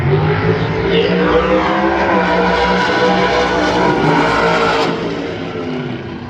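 Race cars roar past at a bracket racing drag strip, a loud sustained engine drone heard from behind the grandstands that holds steady and then eases slightly toward the end.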